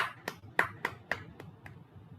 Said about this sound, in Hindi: आज के इस ध्यान के लिए जोरदार ताली बजाएंगे।